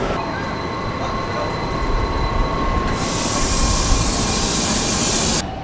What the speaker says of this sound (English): The train had arrived to the platform